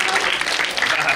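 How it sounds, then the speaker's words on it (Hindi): A school crowd applauds at a Republic Day celebration, a dense, steady wash of clapping that holds at the same level throughout. "ताली जोर से बजानी चाहिए।"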